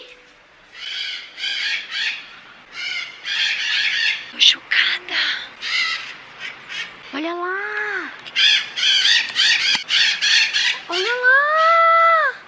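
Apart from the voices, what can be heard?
parrot squawking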